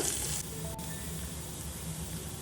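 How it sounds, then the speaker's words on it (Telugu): Green chillies and onions fry in a pan with a steady, soft sizzle that runs evenly throughout, fairly faint and with no voices over it. "ఇవి కొంచెం వేగిన తర్వాత"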